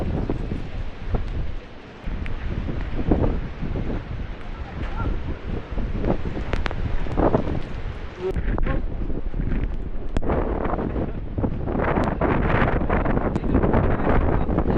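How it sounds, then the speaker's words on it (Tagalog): Strong typhoon wind buffets the microphone in a steady, roaring rush with gusty surges throughout, loud and close. "Taas pa rin yung hangin."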